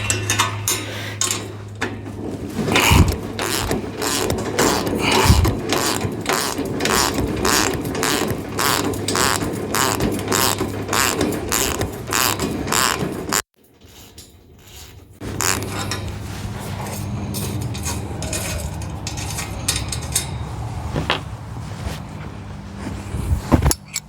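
Bolts on a sheep feeder are loosened with a fast, repetitive metallic ratcheting, close and continuous. It pauses briefly and then resumes over a low steady hum.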